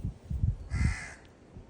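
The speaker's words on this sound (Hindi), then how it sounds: "कोई पक्षी है" A crow gives one harsh, drawn-out caw outdoors, fairly close, over scattered low thumping and rustling noises.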